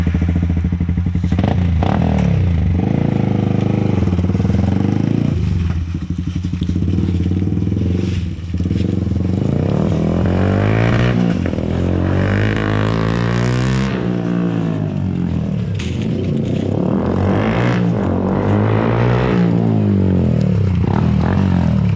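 A Yamaha R15M with a full system exhaust is ridden past. The loud engine revs rise and fall in repeated swells with throttle blips and gear changes over about twenty seconds, and no talking is heard.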